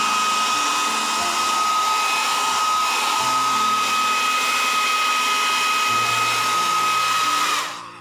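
A hair dryer roars loud and close as it blows acrylic paint dry on a decoupage notebook, a steady whine with a faint high tone, holding for about seven seconds before cutting off.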